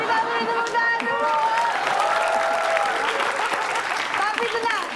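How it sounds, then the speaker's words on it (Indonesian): An audience breaks into steady, full applause that carries on for the whole stretch, with voices calling and cheering mixed in among the clapping. "Oke, kita beri tepuk tangan dulu."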